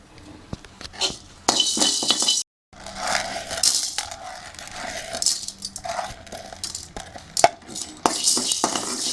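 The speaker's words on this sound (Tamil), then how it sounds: "ஒரு பக்கம் எண்ணெய் போடாமல் நம்ம வறுக்கணும் இதை" Ingredients such as lentils being dry-roasted in a pan without oil on low flame: close, irregular scraping and clinking of a spoon against the metal pan, with rattling bursts and a brief pause.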